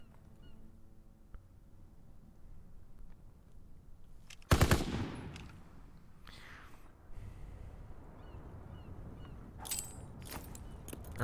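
Gunfire from weapons being test-fired in a Call of Duty game mode: a sharp, loud burst of rapid shots near the middle, then a quieter burst later over a low background hum.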